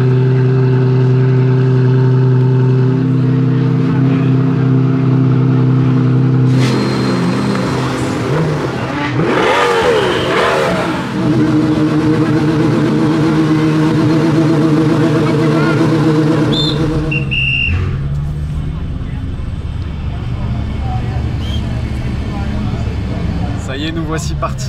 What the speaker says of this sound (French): on va démarrer les moteurs et on va s'élancer sur la course de côte de Goodwood.